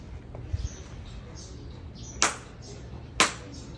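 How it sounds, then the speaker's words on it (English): Two sharp hand claps spaced about a second apart ring out at a Kyoto shrine during a prayer ritual, crisp and close over a low background murmur. "Then we clap twice."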